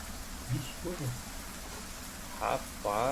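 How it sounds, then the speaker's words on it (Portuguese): Heavy rain sound effect plays as a constant dense hiss at a ruined dwarven temple, with a voice briefly speaking near the end. "É uma chuva mais forte."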